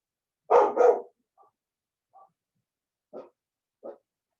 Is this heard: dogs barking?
yes